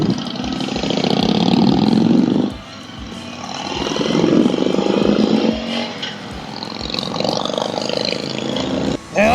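A Harley-Davidson motorcycle engine idles with a low, rhythmic chug that rises and falls in level, some wind noise over it.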